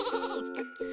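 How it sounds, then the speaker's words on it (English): Sheep bleating close by in a short run of wavering, nasal bleats that overlap and rise again near the end, with no talking. "And these adorable sheep."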